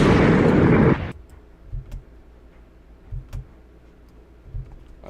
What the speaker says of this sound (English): Castilla, can you fire torpedoes?